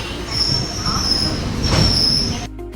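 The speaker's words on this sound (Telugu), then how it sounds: "ఇక్కడ స్టాపింగ్ ఉందండి, మామూలు స్టేషన్లో స్టాపింగ్ ఉంది, బండి ఆగింది ఇక్కడ." A train pulling into a station near Chennai screeches with loud, sustained wheel squeal over rumbling carriages, close by, before the sound drops off abruptly at the end.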